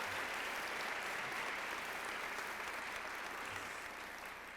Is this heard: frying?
no